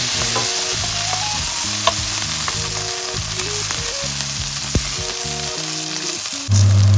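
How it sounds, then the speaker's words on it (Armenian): Yellow bell pepper frying in sunflower oil in a pan, with a steady loud sizzle and crackle that runs without a break and is heard alone, with no talking. "դեղին պղպեղն եմ տապակում"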